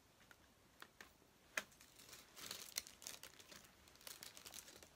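A packet is being opened by hand without scissors: scattered crinkling and crackling of plastic wrapping, faint at first and then denser and louder bursts of rustling, with no talking.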